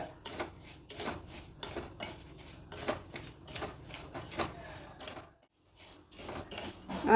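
Rice and moong dal being dry roasted in a pan, heard as repeated scraping and light clinks of a spoon moving the grains against the metal, close and soft, in an uneven rhythm with a short pause near the end.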